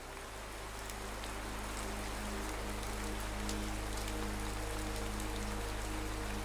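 Steady rain falls evenly without letup, a dense hiss of drops on a surface over a low constant rumble, with no voices.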